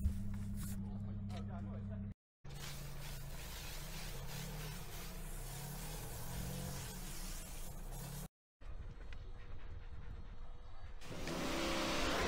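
An AVA P57 pressure washer with a 20-degree Vario nozzle on a stubby gun sprays a car during detailing. A loud, steady hiss of water runs close by, cut off twice for a moment.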